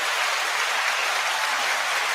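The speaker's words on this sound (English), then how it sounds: "let me get Dre a little applause right quick" Dense, steady applause from a church audience for Reverend Dre, a continuous wash of many hands clapping with no voices on top.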